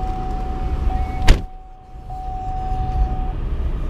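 A 2014 GMC Terrain SLT is started with the ignition key in cold weather: a short burst of cranking catches into a smooth running idle, heard from inside the cabin over a steady chime tone.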